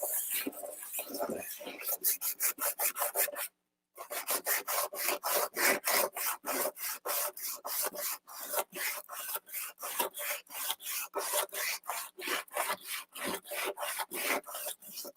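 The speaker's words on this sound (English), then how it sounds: "I set up a sandpaper kind of trail that I taped down the whole strip of paper" Custom lightsaber hilt rubbed back and forth along a taped-down strip of sandpaper, a steady fast rasping rhythm of loud close strokes with one brief pause, no voices.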